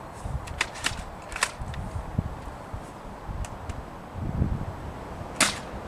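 A Jet Blaster CEDA Model-S gel blaster fires into a chronograph, giving a handful of sharp, snappy cracks spaced unevenly over a few seconds against quiet background noise.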